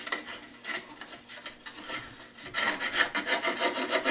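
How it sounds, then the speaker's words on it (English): Sandpaper rubs against a wooden turned vessel, working through the openings by hand with quick, scratchy back-and-forth strokes that grow busier toward the end; close and fairly faint, with no talk. "This involves some hand sanding."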